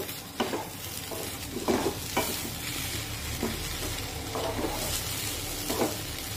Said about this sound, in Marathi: व्यवस्थित हलवून घेऊ